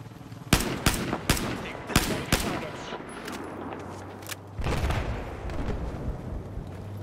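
Sharp, loud rifle shots crack out in quick successive bursts from an automatic weapon in the Battlefield 4 shooter game, followed by a heavier blast and a lingering rumble of battle noise.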